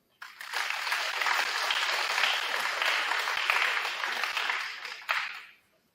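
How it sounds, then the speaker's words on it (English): Audience applause at a high school fall sports award night, breaking out suddenly, holding as a full, steady clapping from a crowded room, swelling once more near the end before fading away. "Let's give a round of applause."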